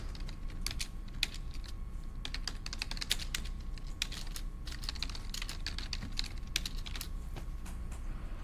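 Computer keyboard typing at a desk, a quick irregular patter of soft key clicks running steadily and fairly quietly throughout, with no one speaking.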